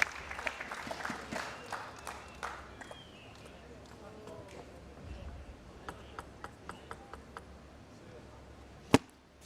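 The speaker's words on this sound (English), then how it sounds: "Man Yu wins the point, but they both win the applause" Crowd applause after a table tennis point at a tournament quarter-final, fading from a burst into scattered claps under a commentator's voice, with a sharp knock near the end.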